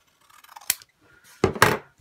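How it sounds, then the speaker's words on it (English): Scissors snip through a paper journaling card, cutting it in half: a few close, crisp cuts, with a quick sharp snip followed by two louder, longer slicing strokes. "I think I might cut this in half."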